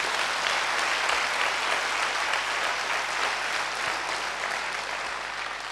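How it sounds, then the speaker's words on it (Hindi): Dense, steady applause from a large audience at a spiritual talk, filling the whole stretch at an even level and easing slightly toward the end, with no voices over it. "जोरदार तालियां बजाइए"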